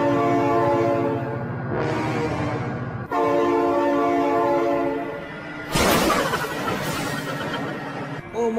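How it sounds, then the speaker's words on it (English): A train passes close and loud in a toy car and monster truck play scene, its horn blaring in long sustained blasts over a steady rail rumble and ending in a bright, noisy rush. "Oh my god, train!"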